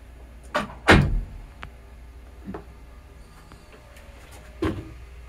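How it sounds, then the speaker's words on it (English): A door closes in an audio production studio with a couple of soft thuds and knocks, the main impact heavy and close, followed by quieter bumps in a hushed room. "And close the door."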